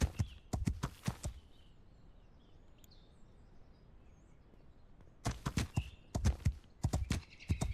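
Horse hooves clip-clop in a medieval village-building game, a brisk burst of hoofbeats, a quiet pause, then another run of steady trotting steps, close and clear.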